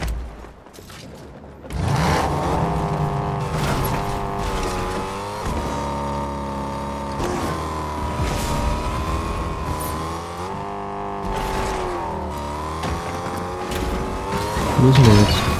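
A car driven in the video game Fortnite, its engine a steady, loud drone with rising and falling revs for most of the stretch after a brief quieter start, with tire and motor noise layered together.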